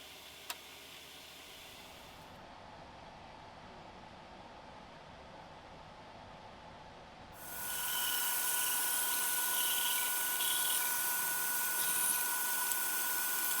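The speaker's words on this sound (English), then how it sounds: "I'm just cutting off the excess pieces on the bandsaw here" A bandsaw cutting excess pieces off a wooden cutting board blank gives a steady broadband whirring hiss that starts loud partway through and keeps going, after a quieter, low idling hum.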